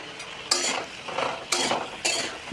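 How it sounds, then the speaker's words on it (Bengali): Eggplant pieces are stirred and fried in a pan for a shrimp curry with elephant foot yam and potato, giving three or four distinct scraping stirs over a steady, close sizzle. "বেগুনের টুকরোটাও একটু ভাজা ভাজা করে নেব।"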